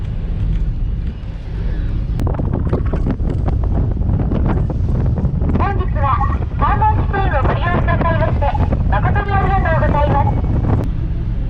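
A small passenger boat crossing to Mojiko, Japan: a steady engine and water rumble runs throughout, with wind buffeting the microphone loudly and voices talking over it partway through.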